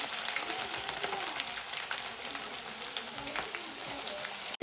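Mustard seeds, curry leaves and garlic sizzle in hot oil over low heat with a close, steady crackling hiss and scattered pops, continuous until a brief break at the very end.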